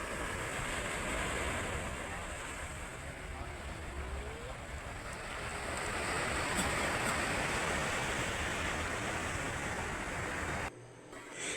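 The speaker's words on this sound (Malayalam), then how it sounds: "എന്തായാലും നല്ല മനോഹരമായ ഒരു ബീച്ചാണ് ഇത്." Steady broadband roar of sea waves and surf at Kollam beach, a continuous wash with wind noise buffeting the microphone throughout, cutting off abruptly near the end.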